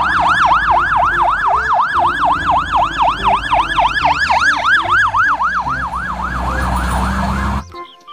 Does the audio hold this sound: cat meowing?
no